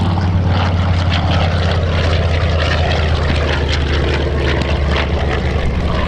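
Grumman TBM Avenger, a World War II propeller warplane, drones loudly overhead at an air show, its steady low engine roar and propeller buzz continuous throughout with no talk.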